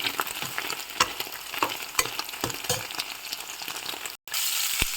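Paneer cubes fry in hot oil with a steady, close crackling sizzle, broken by sharp pops and stirring scrapes, with a brief dropout near the end before the sizzle resumes.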